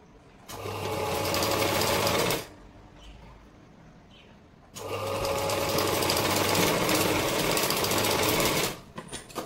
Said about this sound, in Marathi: बघा आता आपण टीप देणार आहोत.